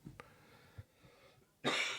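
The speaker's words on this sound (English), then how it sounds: "I got some coughing going on." A person with a cold coughs a few times: two faint short coughs, then one louder, harsher hacking cough at the end.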